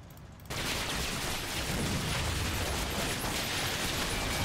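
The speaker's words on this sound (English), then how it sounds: "that's the Hetzer getting shot up" Dense, continuous gunfire rattles against a Hetzer tank destroyer in the World War II strategy game Combat Mission Final Blitzkrieg, a loud unbroken barrage of overlapping shots and impacts that starts abruptly after a brief quieter moment.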